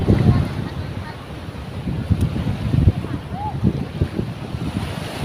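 Strong wind buffeting the microphone in low rumbling gusts on a beach at Bolinao, Pangasinan, with surf or water noise beneath and a voice faintly present.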